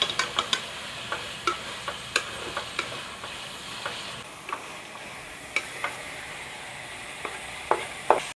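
Sliced onions dusted with turmeric and salt sizzle in a pan for a Kerala-style chicken curry. Steady frying hiss is broken by frequent sharp clicks and scrapes of stirring, close and clear.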